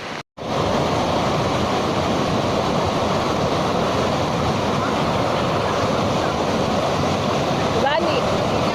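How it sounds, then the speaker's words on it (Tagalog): Rushing water from the waterfall terraces at Palavilla Lutayan, Sultan Kudarat, a steady, dense roar that holds close and loud throughout after a brief silent gap at the start. "Ang maririnig mo lang, ingay ng tubig."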